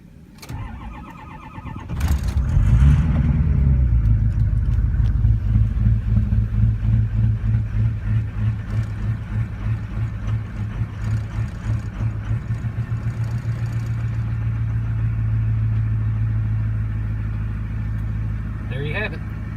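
A 2003 Ford 6.0-liter Powerstroke diesel with about 160,000 miles cranks briefly and fires at -3°F, then settles into a loud, steady, clattering idle close by; a voice speaks faintly at the start.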